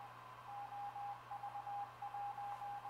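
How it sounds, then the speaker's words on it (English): Steady high-frequency hiss from the audio amplifier of a homebuilt 30 m ham radio transceiver, with a low hum and a faint tone that switches on and off, at low level with no talk. "At that point you get some high frequency hiss coming through"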